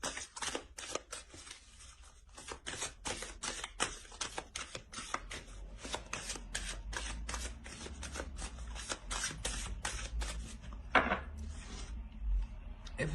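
An oracle card deck is shuffled steadily by hand, producing a long run of quick, crisp riffling flutters that repeat rhythmically at close range with no talking.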